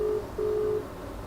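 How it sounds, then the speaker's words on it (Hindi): A phone ringback tone on a speakerphone call: two steady tonal beeps, a short one then a longer one, moderately loud with a low background hum. "देखो फिर दोबारा लगाया मैंने स्पीकर पे डाल दिया भाई। देखो रिंग भी जा रहा"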